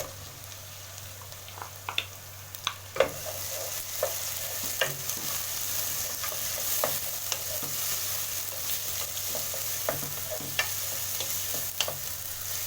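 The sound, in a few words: tomatoes added to garlic frying in a pan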